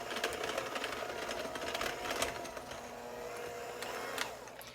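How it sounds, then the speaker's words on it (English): A handheld electric mixer beats butter and sugar together for galaxy icing, giving a steady whirring buzz with slight rattling fluctuations and no talk. "I'm going to be mixing this with a hand mixer."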